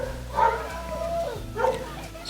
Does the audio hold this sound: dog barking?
yes